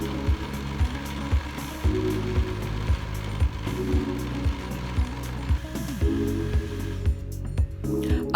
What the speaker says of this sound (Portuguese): Agora vou bater até se transformar em um creme.